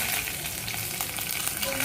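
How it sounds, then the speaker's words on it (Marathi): Green chillies and curry leaves fry in hot oil with a dense, steady sizzle up close, crackling continuously with a stirring scrape and no voices. "आता आपण कडीपत्ता टाकून घेतल्यावर मिरची टाकून घ्यायची"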